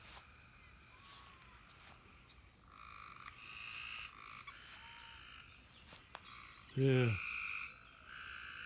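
Two frogs croak in a quick rattling burst near the end, with insects chirping steadily in the background and a brief spoken word earlier.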